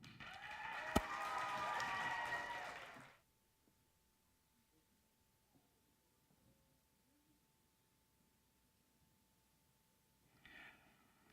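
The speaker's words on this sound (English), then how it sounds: "Let's give one more big round of applause for the Magic of Rio." A crowd applauds and cheers for a magic performer in a loud, dense burst of about three seconds that cuts off into near silence, with a short faint flurry returning at the very end.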